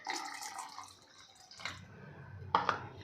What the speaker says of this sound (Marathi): त्यासाठी आपल्याला पुन्हा यामध्ये एक कप पाणी घालायचं आहे